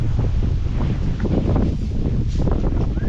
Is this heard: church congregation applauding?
no